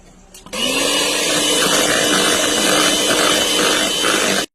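An electric beater whips cream with chocolate ganache for chocolate mousse, a loud, steady motor whir that starts after a brief quiet moment and runs evenly to the end.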